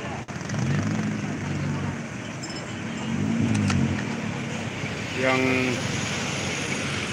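Cars and motor vehicles idle and manoeuvre on a road at a town boundary, turning back while waiting for the road to reopen, with steady engine rumble, a passing vehicle swelling twice, and a brief horn-like tone near the end.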